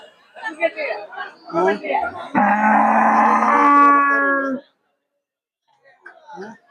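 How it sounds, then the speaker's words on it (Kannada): At a bullock market near Jalihal in Badami taluk, Bagalkot district, one bull or cow lets out a loud, close, drawn-out low lasting about two seconds, with people chattering before and after. "ಇದು ಎತ್ತಿನ ಮಾರ್ಕೆಟ್, ಜಾಲಹಳ ಎತ್ತಿನ ಮಾರ್ಕೆಟ್ ಇದೆ"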